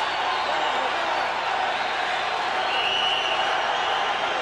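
Boxing arena crowd at a Sugar Ray Leonard versus Larry Bonds fight, a dense, steady roar of cheering and applause that holds at one level throughout.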